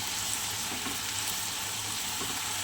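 Sliced snake gourd with salt and turmeric, plus onions and green chillies, fries in a pan with a steady, close, even sizzle that holds without a break throughout.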